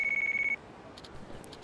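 Phone ringing in Yakuza Kiwami, a short electronic tone pulsing rapidly for about half a second, then cutting off to quiet background.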